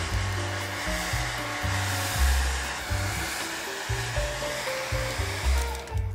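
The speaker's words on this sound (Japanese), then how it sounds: "ドライヤーで乾かします" A hair dryer blows a steady whooshing airflow over a watercolor pencil painting on paper, close and continuous, with a low choppy rumble shifting as the dryer moves.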